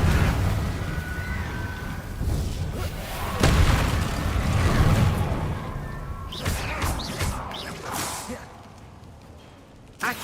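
Confringo spell explosions and magic blasts in Hogwarts Legacy, a dense continuous wash of booms, whooshes and crackling impacts layered over game music, loud and sustained throughout.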